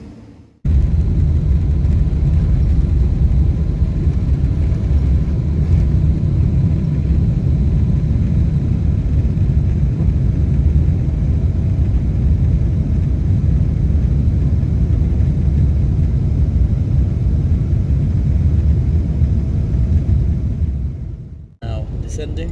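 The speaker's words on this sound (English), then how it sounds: "Now descending, and hopefully we'll be at Heathrow in the next few minutes" Steady, loud airplane cabin roar during the descent into Heathrow fills the whole stretch as a continuous low rumble and whoosh of engine and air noise, then ends abruptly.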